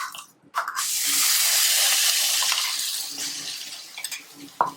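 Ground spice paste hits roasted flour in a hot pan with a sudden, loud, sustained sizzle that eases slightly over several seconds, alone with no talk, while cooking soybean bhaji.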